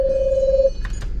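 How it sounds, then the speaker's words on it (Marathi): A phone sounds a single steady electronic ring tone for under a second, followed by a pause and faint indistinct sounds. "फोन येतोय"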